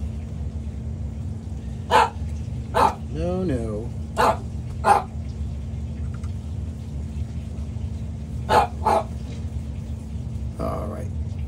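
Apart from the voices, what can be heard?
dog barking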